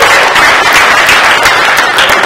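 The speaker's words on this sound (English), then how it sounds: "yourself a round of applause for being here." Conference attendees break into a short burst of loud, dense applause during a Hug Your Haters talk at DHTC19 South West.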